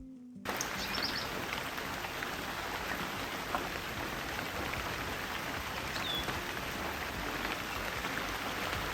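Steady rain patters continuously on surfaces outdoors in Ireland in summer, a soft even hiss with no voices.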